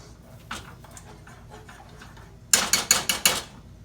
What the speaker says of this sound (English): Stir it up in there.